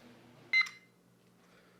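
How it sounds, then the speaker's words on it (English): An iPod alarm gives a short, bright electronic beep followed by a fainter chirp near the end, heard close in an otherwise quiet room over a low hum. "that was my alarm on my iPod again"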